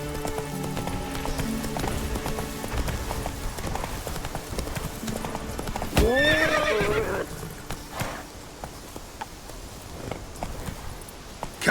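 A horse galloping in The Witcher 3 on Death March difficulty, with steady clip-clop hoofbeats throughout and a loud whinny around the middle, set over in-game ambience and music.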